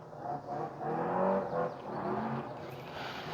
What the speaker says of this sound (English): Car number 399, Robert Chabot.